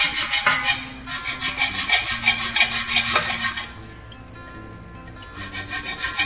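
A hard metal part from a Moulton bicycle being cut by hand with a saw, steady rhythmic rasping strokes close up, pausing near the end before resuming.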